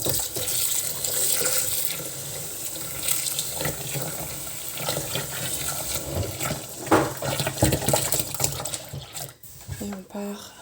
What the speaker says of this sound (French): on va venir faire un nettoyage du bol, de l'eau, une goutte de liquide vaisselle.